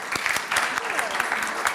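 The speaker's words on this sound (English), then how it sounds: "An applause." An audience claps briefly, a brisk patter of many hands at moderate volume.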